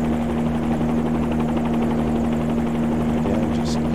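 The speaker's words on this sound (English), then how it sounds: "And when we're in the green, we can lift on collective. And off we go. It's a fun little helicopter to fly" A helicopter in the X-Plane 11 flight simulator lifts off, its steady rotor drone and engine whine holding loud and constant throughout, with strong low hum and no voices.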